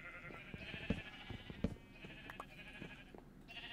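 Sheep in the video game Minecraft bleat in a steady run of wavering, nasal calls over a busy background of soft clicks and knocks, fairly quiet throughout.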